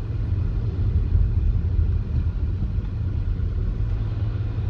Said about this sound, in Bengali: আমরা এখন পার্নো সিটিতে ড্রাইভ করছি, এস্তোনিয়ার পার্নো।